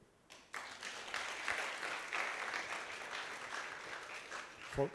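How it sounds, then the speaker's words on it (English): An audience at a project management awards evening in Kenya claps together, a steady round of applause that swells after a brief start and holds at moderate loudness. "I would want all of us to clap for ourselves"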